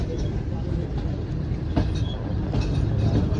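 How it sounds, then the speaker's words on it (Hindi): Shalimar Express passenger train pulling out of Toba Tek Singh station: a loud, steady rumble of railcars with clickety-clack wheel rhythm and occasional squeals, with a voice talking over it. "तो टोबा टैक्सिंग से रवाना हो रही है हमारी ट्रेन।"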